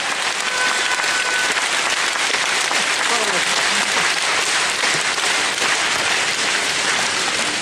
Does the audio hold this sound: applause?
yes